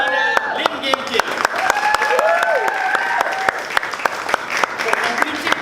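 A Toastmasters club audience applauds a member after her speech, a crisp round of close hand claps with distinct individual strikes, while voices talk over it.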